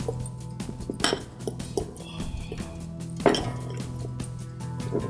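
Metal utensil clinking and scraping against a pot while marinated beef is stirred and mixed, with irregular clinks and a couple of sharper knocks, fairly close.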